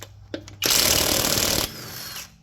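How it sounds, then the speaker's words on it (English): An impact wrench hammers hard for about a second on a seized, over-torqued front strut bolt of a 2014 Ford Fusion, loud and close. A couple of short taps come before it, and a softer whirring tail follows. "Should not be that hard to get off, especially with this impact I'm using."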